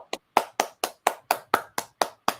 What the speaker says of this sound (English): It's our clapping time here in Vancouver.